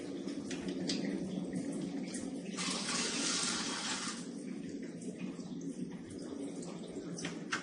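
Clean water runs from a Kangen water ionizer unit, a steady trickling pour under continuous low background noise, with a brighter, louder rush in the middle that eases back, and no voices.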